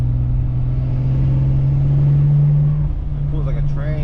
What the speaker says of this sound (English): The car still sounds great.